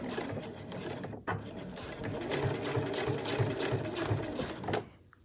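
Sewing machine running steadily, top stitching a leatherette front panel for a backpack with a long 3.5 stitch length; a continuous mechanical whir with a rhythmic pulse, one brief pause near the start, stopping just before the end.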